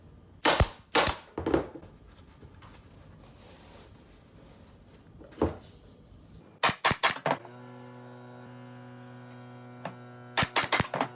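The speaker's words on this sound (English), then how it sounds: "make sure you're not stapling over the top of the dacron" A staple gun fires sharp, loud snaps into fabric over the frame of a no-sew channel tufted headboard, shot in short bursts of two to four with quiet gaps between, and a steady hum runs underneath.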